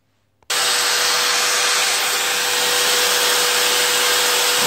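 A motor suddenly starts and runs at a loud, steady high-pitched whine with a constant tone: a drill clamped in a vise, used as a lathe, spinning a workpiece continuously.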